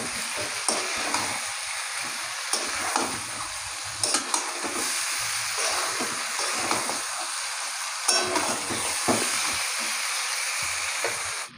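Fried potatoes are added to village-style chicken curry in a pan. A loud, steady sizzle runs throughout, broken by repeated scraping and stirring knocks of a utensil against the pan.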